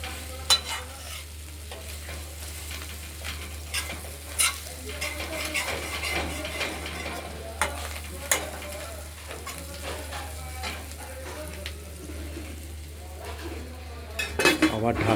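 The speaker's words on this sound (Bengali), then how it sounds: "আমরা পেঁয়াজকলির ঢাকনা, কড়াইয়ের ঢাকনাটি খুলে পেঁয়াজকলিগুলো ভালো করে নেড়ে দিলাম।" Chopped spring onion greens frying in a wok, stirred with a utensil: soft continuous sizzle under repeated scraping clinks and clacks of metal against the pan, fairly close, no talking.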